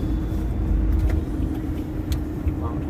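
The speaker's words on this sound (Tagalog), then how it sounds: "Ngayon, naka-tricycle." A motorized tricycle riding on a road in Calasiao, Pangasinan, a steady close low engine rumble with road noise throughout and faint talk.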